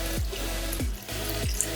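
Water is poured slowly onto a cold brew coffee bag in a large 15-gallon vat, a steady splashing gurgle with three low rhythmic glugs spaced about half a second apart.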